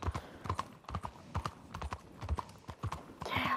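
Rhythmic clip-clop of horse hooves trotting at a steady pace in a video game set in West Elizabeth, fairly close, with a brief burst of louder noise at the end.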